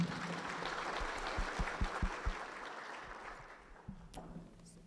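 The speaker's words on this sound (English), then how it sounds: "Another round of applause, please." A workshop audience in a lodge conference room gives a round of applause, a dense, moderately distant patter of many hands that thins out toward the end, with a few louder thumps and brief voices underneath.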